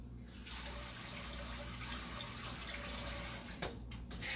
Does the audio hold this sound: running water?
yes